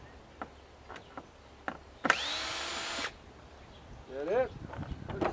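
A power drill whirs briefly for about a second while screws are backed out, with people talking quietly before and after the run.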